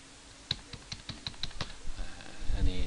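Fingers typing Thai text on a computer keyboard, a quick run of close, crisp key taps at an uneven rhythm, with a soft burst of further clatter toward the end.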